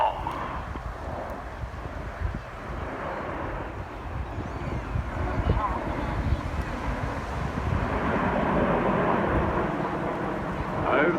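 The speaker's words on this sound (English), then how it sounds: "Lancaster moving off to our left-hand side" An Avro Lancaster bomber flies past at an air festival in Swansea, a low, distant rumbling drone swelling gradually beneath wind noise across the pass.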